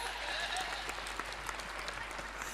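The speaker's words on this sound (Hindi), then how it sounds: "ताली बजाओ" Dense, steady applause from a kavi sammelan (Hindi poetry recital) audience fills the room, loud and continuous with no pauses or voices on top.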